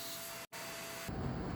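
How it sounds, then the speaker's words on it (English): A vacuum cleaner sucks lint out of a bathroom exhaust fan housing, giving a loud steady rushing hiss with a brief dropout and a shift in tone as the nozzle moves. "Use a vacuum to suck out the lint that fell inside."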